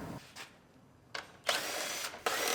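Power tool buzzing in short whirring bursts while removing bolts across the radiator support of a wrecked 2019 Ford Explorer Limited, close up with brief pauses between runs.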